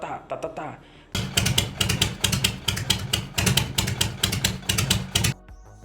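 A Harley V-twin motorcycle engine idles with its loping, galloping potato-potato rhythm, close and loud, uneven pulses repeating for several seconds after a few brief sounds at the start.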